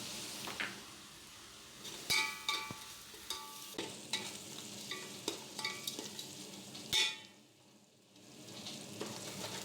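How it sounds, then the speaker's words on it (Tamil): Onions and green chillies sizzle softly in hot oil for a curry, with a spoon stirring and scraping against the pan in irregular close taps and brief clinks, all fairly quiet. "இப்போ நம்ம குழம்புக்கு தேவையான எண்ணெய் விட்டு வெங்காயம் லைட்டாக அரைச்ச வெங்காயம் பச்சை மிளகா போடுறோம்."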